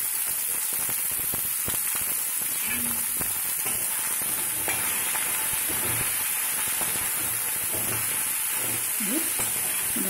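Dried anchovies and cauliflower fry in a pan with a constant close sizzle and hiss, faint stirring scrapes and some tonal sounds in the background.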